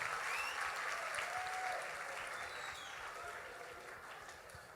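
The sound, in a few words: audience applauding the group from Paraguay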